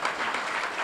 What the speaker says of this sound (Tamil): ஏன் சுமாராக கைத்தட்டுறீங்க?